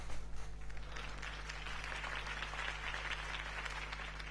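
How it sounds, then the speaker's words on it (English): Sustained applause from an audience after a campaign speech in a Batman live show, an even rolling clatter of clapping over a low steady hum, moderately distant and without talk. "If only Mr. Wayne, my campaign's largest backer, could have heard that applause"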